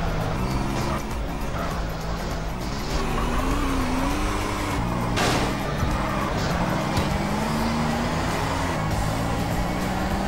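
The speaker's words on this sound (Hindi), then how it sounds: "अब गाड़ी में बैठ कर चलते हैं उधर" Car driven in GTA San Andreas, a steady loud engine drone with rising and falling revs and gear shifts, close and continuous throughout, with brief talk underneath.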